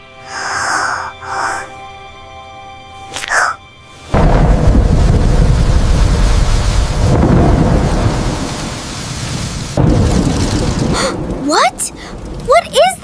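Loud cracks of thunder break over heavy, steady rain, with deep rumbling booms and a few brief vocal sounds at the start and end.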